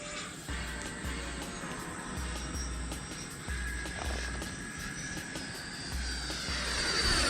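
An E-flite F-16 RC jet, buffeted by turbulence, passes overhead with a steady whooshing ducted-fan whine that swells louder toward the end, with no voices.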